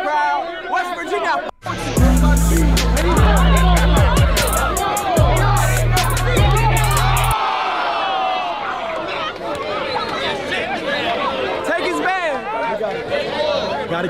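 A cheering, chattering crowd at an outdoor one-on-one streetball game in the rain in West Virginia, a loud steady hubbub behind music beats and a commentator's talk.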